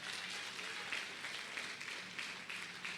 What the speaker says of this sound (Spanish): Dale un aplauso al que vive y reina.